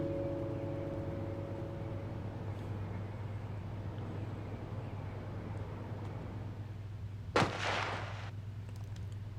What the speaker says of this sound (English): Was it a gunshot that I heard in the distance?